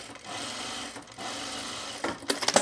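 A sewing machine stitches two layers of fabric binding together, running in two steady bursts of whirring with a short pause between them, then a few louder clicks and clunks near the end.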